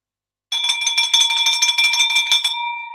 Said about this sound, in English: Ring the bell for me, baby.